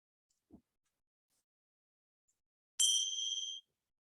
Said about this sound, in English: the bell marks the end of the relaxation and the end of our practice today